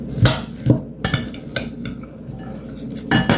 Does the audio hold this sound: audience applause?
no